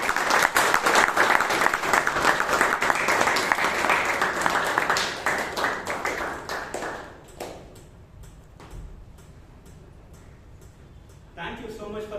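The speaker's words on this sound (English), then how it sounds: "with a thunderous round of applause, please let me welcome the energetic ergonomist, Toastmaster Srinivas V" Thunderous audience applause at a Toastmasters club meeting in Bangalore, loud sustained clapping from a roomful of members that gradually thins out into a few scattered claps before picking up briefly again at the end.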